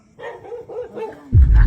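A dog barks loudly and close by near the end, a brief burst following a few seconds of quieter, muffled vocal sounds in a casual outdoor setting.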